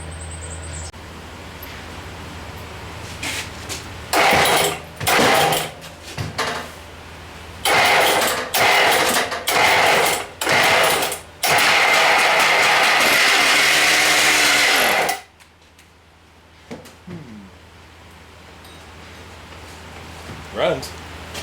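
An old Cushman scooter engine that sat for 30 years cranks in repeated sputtering bursts, then catches and runs loudly and steadily before shutting off, leaving quieter sounds.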